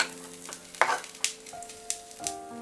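Ripe mango curry being stirred in a pan, with soft scraping strokes and faint sizzling, a few sharper spoon-on-pan taps scattered through, quiet and close with no talk.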